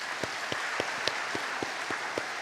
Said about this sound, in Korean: 우리 하나님께 영광의 박수 한번 하겠습니다.